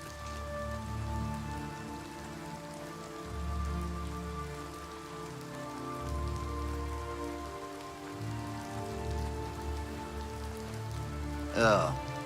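Rain patters continuously in Oblivion Remastered, a steady soft drizzle under low rumbling game ambience and a held musical tone, with a brief voice-like sound rising near the end.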